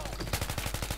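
Rapid automatic gunfire in Battlefield 3, a steady burst of closely spaced shots running through the whole second at moderate loudness, with no voices over it.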